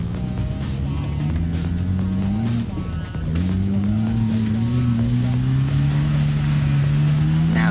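A Morgan F4 three-wheeler climbs a trials course at a Morgan Sports Car Club event, its engine droning loud and close, pitch rising steadily as it labours uphill, with a brief dip and recovery midway.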